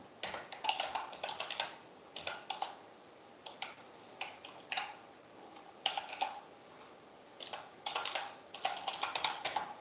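Someone types on a computer keyboard in quick bursts of soft clicks and taps, pausing between short runs of keys, close up and quiet with no speech over it.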